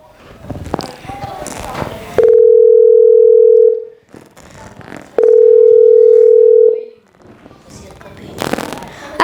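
Two steady, loud telephone tones, each lasting about a second and a half, separated by brief muffled rustling and background voices.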